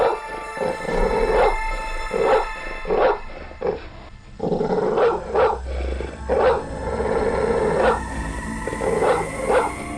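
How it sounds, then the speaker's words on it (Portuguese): A brave dog barks repeatedly at night in the woods, sharp close barks in an irregular rhythm mixed with growls and whimpering yips. "Tião era um cachorro muito valente e começou a latir olhando fixamente para frente e para cima"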